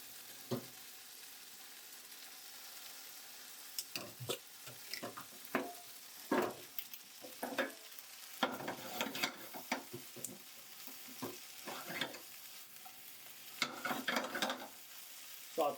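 Gnocchi sautéing in a pan with tomatoes, garlic and butter, a soft steady sizzle under repeated clattering and scraping as the pieces are stirred, in irregular bursts throughout.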